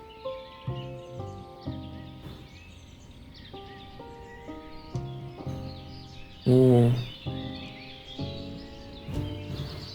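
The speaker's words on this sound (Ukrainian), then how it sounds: "Пташки прилетіли чи якісь звуки з'явились." Bright bird-like chirps and tweets ring out over looping synthesized music in the video game Ostriv, with one louder flurry of calls partway through.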